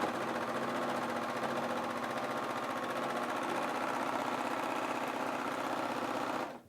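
A Husqvarna Viking S-21 serger stitching fabric on a diagonal, a loud, steady, rapid mechanical whir with a fast needle rhythm that runs continuously before stopping abruptly at the end.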